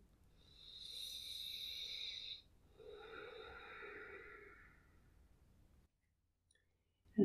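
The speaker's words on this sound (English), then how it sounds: "And then breathe a little deeper." Two long, slow breaths are drawn close to the ear during a calm body-awareness exercise: a deep airy inhale, then a softer, lower exhale trailing off into quiet.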